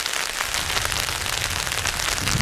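Rain falls steadily at a campsite behind the Pranburi Dam in Thailand, a dense, even hiss with soft low rumble and no voices.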